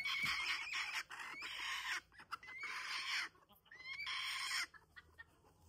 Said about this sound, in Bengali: এখানে সব কুচা মুরগি বসে আছে।